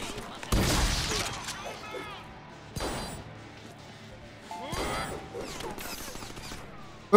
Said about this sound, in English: Ich liebe die Shotgun.